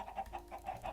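Chickens cluck in a Minecraft world, a short burst of repeated soft clucks in a quick, even rhythm, close and alone.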